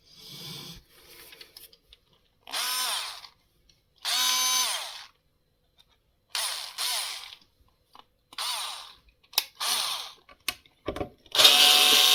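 Power screwdriver backing screws out of a Spiritus 7 guitar during an electronics repair, several separate bursts of high whirring, each a second or so long, with short quiet gaps between them.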